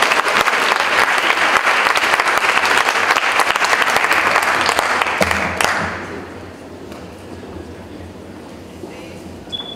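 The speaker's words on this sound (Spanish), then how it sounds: "Le brindamos un fuerte aplauso a Felipe Salazar para que inicie su conferencia magistral." Sustained audience applause welcoming a lecturer to a police-legitimacy conference at a university, loud and dense for about five seconds before dropping abruptly to a quieter room hum.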